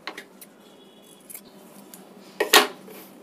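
Scissors snip through blouse fabric, a few faint light cuts followed by one louder, crisp snip close by, with no voices.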